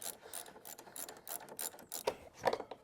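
The front axle being twisted out of a CFMoto 450MT motorcycle wheel, giving close, quiet, rapid metallic ratcheting and scraping clicks in an irregular stream, with a couple of slightly louder knocks near the end.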